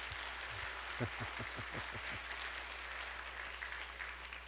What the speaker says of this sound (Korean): 박수를 한번 좀 격려 좀 부탁드립니다.